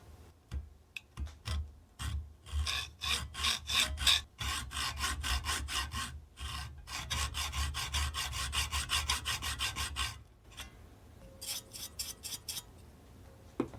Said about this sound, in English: I'm going to use a hacksaw to cut a new slot 90 degrees to the old one.